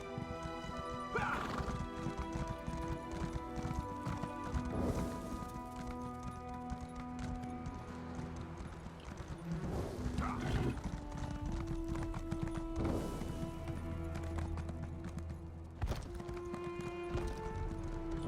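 Summoned horse in The Elder Scrolls Online galloping with steady clip-clop hoofbeats over game music, with a few sharp crashing hits and a brief whinny along the way.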